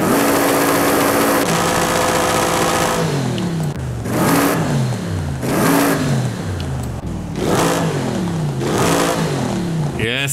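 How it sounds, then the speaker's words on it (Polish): Car engine in Forza Horizon 5 revving repeatedly while parked in the garage during exhaust tuning, several loud rising and falling throttle blips in a steady rhythm, up close. "Sam fakt, że my możemy teraz dodawać sobie gazu, będąc w garażu i słuchać samochodu podczas tuningu"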